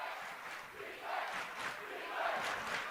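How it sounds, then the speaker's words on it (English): A boys high school basketball crowd swells in volume late in a close game, a faint, continuous roar of many voices with rising and falling surges. "Crowd gets loud."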